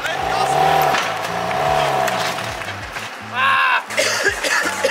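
Engine of a wrecked, oil-drained car being revved, rising and falling roars with a sputtering stutter, loud and close, with people shouting excitedly over it.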